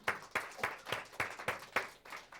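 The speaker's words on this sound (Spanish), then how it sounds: "Un aplauso para el Señor." A church congregation claps in unison, about eight sharp, evenly spaced claps in a steady rhythm, moderately distant and fairly quiet.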